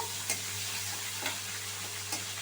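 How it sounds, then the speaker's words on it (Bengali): Onions and tomatoes frying in a pan, a soft steady sizzle with a few faint scraping strokes of a spoon stirring at intervals, quiet and close. "ভালোভাবে ভেজে নেবো পেঁয়াজ আর টমেটোর সাথে"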